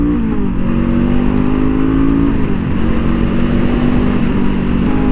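A 2023 Honda CL 500 motorcycle runs at high speed on a racing track, its twin engine a loud steady drone heard close up. The pitch dips briefly midway, then climbs and holds, with wind rush underneath and no voices.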